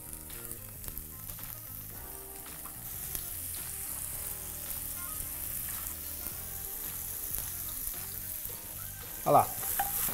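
Oyster mushrooms fry steadily in oil in a hot pan, a soft continuous sizzle with occasional stirring and one sharper clatter near the end.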